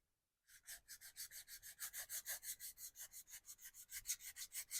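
Sandpaper scrubbing back and forth over the rear fender of a 1989 Harley-Davidson Softail, a steady rhythmic rasp of about five strokes per second, close but quiet, with nothing else heard.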